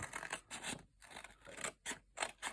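Small scissors snip through paper to cut out a vintage-style craft tag, with a few close, quiet crunching cuts and brief gaps between them.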